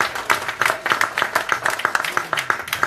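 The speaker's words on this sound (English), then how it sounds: "Big round of applause." An audience at a Nation of Islam UK regional gathering claps in a fairly sparse, uneven patter, individual hands audible rather than a full roar, moderately close.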